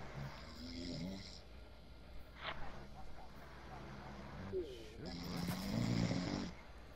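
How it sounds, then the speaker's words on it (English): A person snoring in rough, rasping breaths during an online shooter game session, mixed with game noise and several people talking over it. "Who is snoring?"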